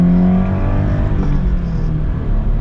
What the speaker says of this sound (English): let's get our full-blown acceleration here with the BRZ